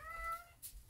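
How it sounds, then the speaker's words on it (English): A pet cat gives a single short meow, a clear harmonic cry that slides slightly downward, close by and fairly quiet, with a soft rustle near the end and no talking. "Can you hear her? She's a very vocal kitty."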